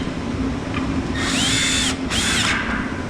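A power drill drives screws into a wooden tote storage rack in two loud whirring bursts, the second after a brief pause, each rising in pitch as the screw seats, close and alone over low room noise.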